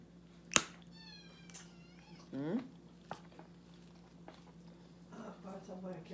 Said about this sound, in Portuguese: E os gatos miando.